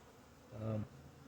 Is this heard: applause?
no